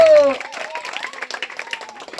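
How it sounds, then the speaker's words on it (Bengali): Village audience clapping for players at a cricket tournament prize ceremony in a Bengal gram panchayat, a burst of lively applause from a nearby crowd that follows a shouted voice and continues steadily to the end. "জোরে হাততালি মারো রে"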